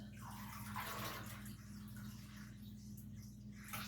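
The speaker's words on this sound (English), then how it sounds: "let it drain into the sink a bit" Wet, freshly dyed wool fiber draining into a sink, a steady soft trickle and splash of water running down close by, continuous throughout with a low hum beneath.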